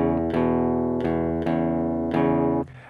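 A guitar plays a short blues progression read from tablature, with rhythmic strummed chords struck about five times at an even pace, moderately loud and close, ending in a quick cutoff, with no talking.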